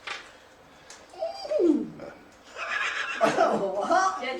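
A person imitates a horse neighing, voicing a wavering whinny followed by a longer, chortling neigh with laughter-like breaks.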